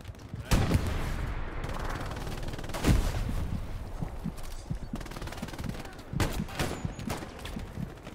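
Gunfire crackles in a World War II El Alamein video game battle, with bursts of machine-gun fire from a building and scattered shots over a steady din of combat, loud and close at intervals, with a voice shouting over it.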